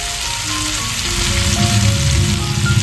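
Beetroot and carrot fry steadily in a pan, a dense continuous sizzle with a few crackles, close and fairly loud with no voices.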